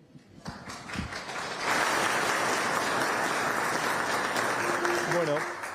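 Audience applause at a Christmas children's event, a dense wash of clapping that swells after a second and holds steadily for several seconds, with brief voices at the start and a faint tone near the end.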